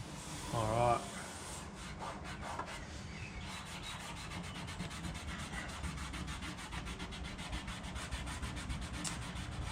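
Sticky material is rubbed by hand onto the surface of an EK Honda Civic, a close, rapid run of scrubbing strokes. It follows a brief louder noise at the start, and faint talk can be heard.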